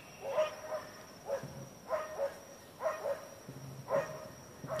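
Dogs bark far off from a front yard in Oviedo on a Saturday night, about five evenly spaced bursts of barking that stay faint and distant, with no nearby talking.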